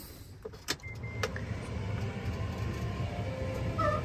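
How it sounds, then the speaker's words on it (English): An air-braked straight truck is shut off and its parking brake released, giving a short mechanical clunk and a quick hiss followed by a low, steady rumble. "So to do that, I'm gonna turn the truck off. I'm going to release the parking brake."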